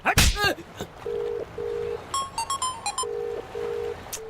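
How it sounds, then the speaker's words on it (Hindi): A mobile phone ringing with repeated electronic beeping tones in two-beat bursts, following a sharp thump at the start, heard clearly with little else around it. "रुक, पहले सूर्या को फोन लगाता हूँ"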